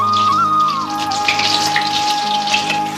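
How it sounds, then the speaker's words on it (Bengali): Finely chopped onion frying in hot oil in a kadai, with a steady, close crackling sizzle that holds evenly throughout, no voices. "পেঁয়াজটাকে ভালো করে একটু ভেজে নেব।"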